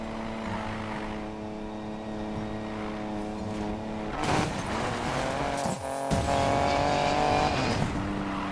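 A car in Need for Speed Payback drifts with a loud, sustained engine drone and squealing tires, then the sound swells and shifts as it powers through the slide.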